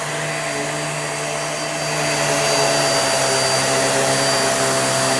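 A Hoover React QuickLift vacuum cleaner runs steadily with a loud, constant whirring motor whine and a high tonal hum that swells slightly partway through, close by and without voices.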